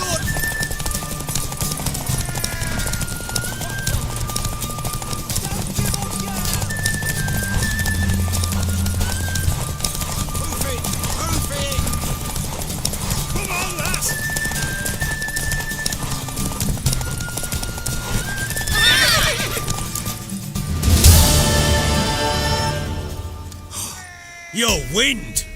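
A horse in The Witcher 3 gallops with steady clip-clop hoofbeats and whinnies, set among game music and talking voices, ending in a burst of louder clatter near the end.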